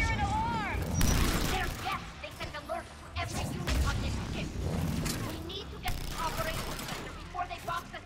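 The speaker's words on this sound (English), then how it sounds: "Very rude of you, firing rockets at me." Rockets are fired during combat in Mass Effect 3, with repeated sharp blasts, booms and crashing impacts in an irregular run of loud bursts.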